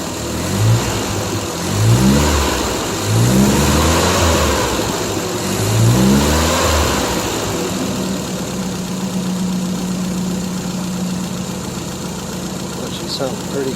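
An old Triumph Spitfire engine that sat unused for 12 years runs and revs, rising and falling in several surges before settling into a steady idle, close by, with a voice partly over it.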